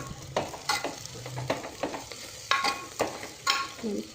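Beetroot being stir-fried in a pan for tomato bath, a soft sizzle broken by repeated scraping strokes of a spatula about twice a second.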